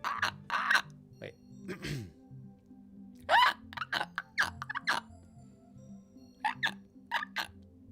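Human voice imitating a seagull call in a string of short, squawky, high bursts, fairly close and spaced irregularly over a quiet steady background tone.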